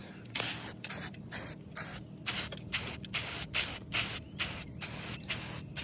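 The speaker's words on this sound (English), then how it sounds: "I started spraying without even thinking about it" Short bursts of spray paint hiss out in a quick, uneven rhythm, close by, with brief pauses between each spray.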